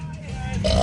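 A loud, close belch with a hiccup partway through, swelling rough and low before a brief shriller catch near the end.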